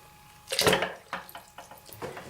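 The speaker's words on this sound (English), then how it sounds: "your GoPro falls in the water" A GoPro camera with a floaty backdoor dropped into water, a sharp splash followed by a few smaller sloshing splashes as it settles and bobs, close and clear.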